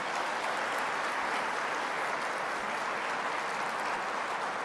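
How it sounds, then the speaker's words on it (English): Applause from an audience at the 2025 State of Agriculture Address, a dense, even wash of many hands clapping in a large room, sustained and moderately loud without pause. "let's give them a round of applause"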